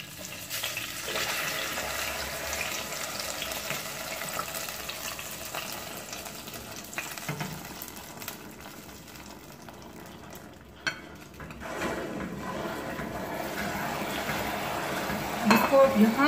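Semolina and milk mixture poured slowly into a hot pan for Mukhandi halwa and stirred, giving a steady wet sizzling, bubbling hiss with occasional scraping of the spoon.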